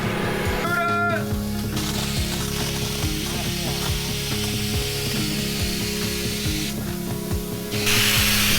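A paint spray gun hisses steadily while coating a hurricane-damaged catamaran hull, a continuous close spray with faint clicks and knocks underneath and brief pauses in the flow.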